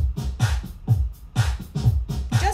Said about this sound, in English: Just beats, which is perfect to mix into another track.